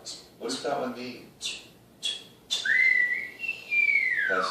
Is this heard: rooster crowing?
no